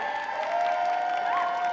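Audience applause for the Madagascar catering team at the 2015 International Catering Cup, a steady wash of clapping with some crowd murmur, sustained and fairly even over a brief stretch.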